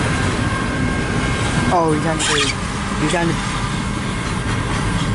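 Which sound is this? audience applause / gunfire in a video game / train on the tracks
train on the tracks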